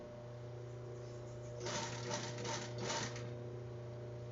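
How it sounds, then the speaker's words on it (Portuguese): An overlock sewing machine stitching bikini fabric in a short burst of rapid, even clatter lasting about two seconds over a constant motor hum. "Costurando, acertando no tecido, posiciono, costuro, ajeito, posiciono, costuro."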